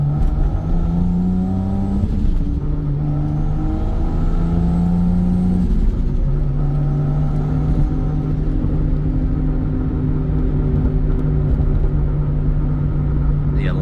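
A 1993 Toyota Supra Turbo on a test drive, its engine droning steadily from inside the cabin with rising and falling pitch as it accelerates and shifts, a continuous loud rumble throughout.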